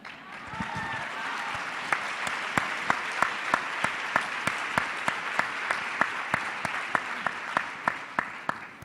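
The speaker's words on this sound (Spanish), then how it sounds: "Gracias por los aplausos." Audience applause at a sustainability conference in Chile, a steady wash of clapping with sharp, regular louder claps punctuating it throughout, moderately distant and without speech.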